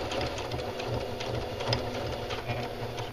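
A home sewing machine stitches a pajama pants casing just inside the fabric fold at an unhurried, even pace, its close mechanical whir and rapid needle chatter running steadily without pause.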